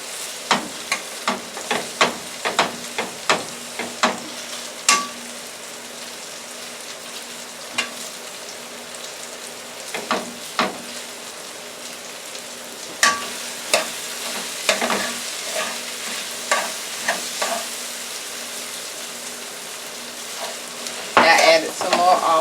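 A spatula scrapes and taps against a frying pan as cold rice is stirred and broken up in olive oil, giving a run of sharp knocks over a soft, constant sizzle, with a busier clatter near the end.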